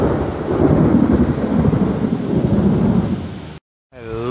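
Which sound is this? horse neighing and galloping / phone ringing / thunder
thunder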